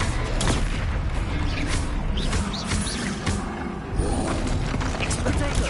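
A Bombarda explosion spell in the Hogwarts Legacy game gives dense, booming blasts and crackling impacts layered over constant loud game action, with a voice speaking over the chaos.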